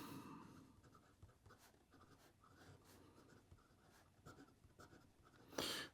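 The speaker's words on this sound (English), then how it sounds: "Here we go with the writing sample for the Montegrappa." A Montegrappa 007 Goldfinger fountain pen writing on paper with orange ink, close and faint: soft scratchy strokes and small nib scrapes in an irregular rhythm, ending with a louder rustle.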